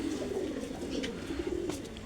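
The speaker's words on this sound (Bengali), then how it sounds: "পায়রা ফুলসিরা কালদুম এসে বসলো।" A Kaldum pigeon coos steadily and close by, a continuous low throaty rolling call, with faint chirps in the background.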